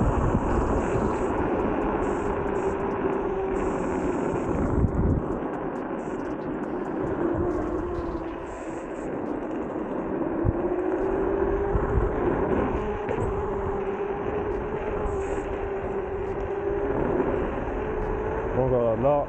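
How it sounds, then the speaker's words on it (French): Joyor S8-S electric scooter ridden at around 60 km/h: steady rushing wind roar and a continuous motor whine, close and loud, with slight swells as speed shifts. "Honnêtement c'est juste ouf la vitesse qu'on prend avec cette trottinette."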